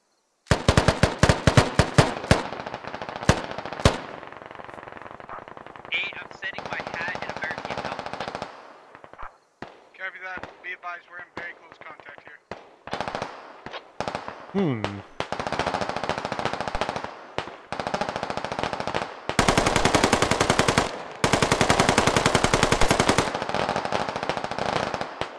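Machine gun fire in the video game Squad, repeated loud bursts of rapid automatic shots with short gaps between them, plus some brief single cracks.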